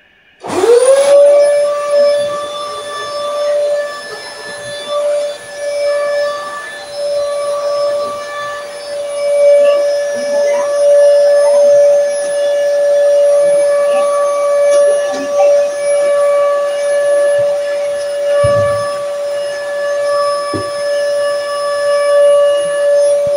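A household vacuum cleaner starts up and runs continuously with a steady high-pitched whine and motor hum, close and loud, with occasional bumps and soft voices in the background.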